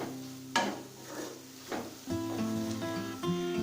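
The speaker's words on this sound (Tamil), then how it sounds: "ஒரு 2 நிமிஷம் வரைக்கும் நல்லா வதக்கிக்கலாங்க." Fenugreek greens masala with garam masala sautéing in oil: a steady sizzle under repeated scraping stir strokes, with a few sharp clanks of the spoon against the pan and no talking.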